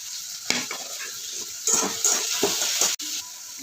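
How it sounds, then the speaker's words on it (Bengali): Sliced onions with a pinch of salt frying in a pan: a steady bright sizzle runs throughout, broken by several scraping stirs and a sharp clack near the end, close and loud, with no talking. "এবার দিয়ে দিচ্ছি এই পেঁয়াজগুলো। পেঁয়াজে একটু নুন দিয়ে দিচ্ছি।"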